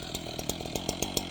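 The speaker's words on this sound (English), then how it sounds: "Let's see what Joe can do with his chainsaw now that it's running." Chainsaw running while cutting firewood at an off-grid homestead in Alaska, heard faintly at a distance as a steady engine drone with quick regular pulses, with no voices over it.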